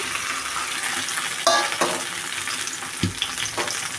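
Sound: chopped okra frying in oil in a pan

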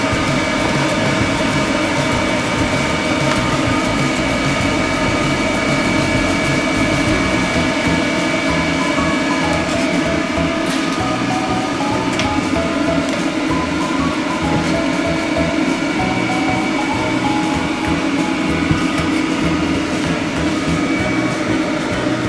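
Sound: hair dryer blow-drying a nine-month-old mixed-breed dog at a grooming salon

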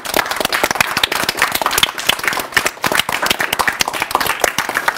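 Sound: applause for the team

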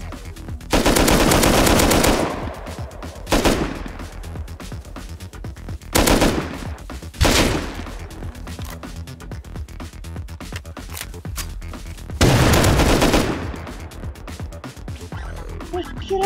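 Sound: gunfire in the video game Rust

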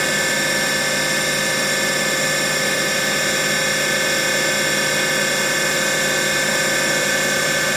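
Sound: Haas TM-1 CNC mill spindle running at 2,500 RPM

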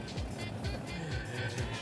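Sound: SUV driving past another car off-road

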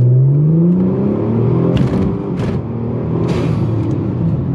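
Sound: Ford Taurus SHO accelerating at full throttle from a stop

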